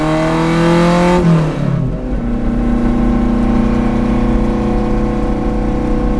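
A rebuilt Alfa Romeo GTV hot rod engine revs high, then the pitch drops sharply as the throttle is released and it settles into a steady, rumbling idle.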